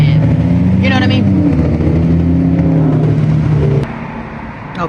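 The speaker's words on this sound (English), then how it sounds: "I had to wait for those cars to pass." Cars roll past on a nearby road, a loud steady engine and tyre rumble that fades out near the end, with a voice talking over it.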